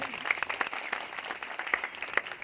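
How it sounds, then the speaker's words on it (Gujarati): Crowd at a political rally breaking into applause for Bijrajbhai, a patchy spread of claps with sharp individual hits standing out over a thin background. "એકદમ બિજરાજભાઈ માટે જોરદાર તાળી થઈ જાય."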